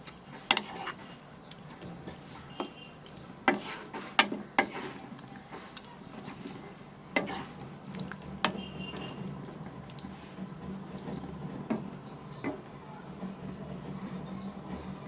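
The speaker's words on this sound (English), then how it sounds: "Then I'm going to add the fried onion and the capsicum. Mix it." A spoon stirs and scrapes fried onion and capsicum in a pan for a mixed vegetable curry, making soft, irregular clicks, scrapes and light sizzling up close.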